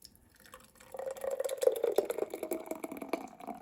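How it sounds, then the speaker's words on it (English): Juice pours from a Flexzion vacuum blender jar into a container: a quiet start, then a steady trickling, gurgling stream of liquid with splashy drips, close and fairly soft. "Let's pour this one"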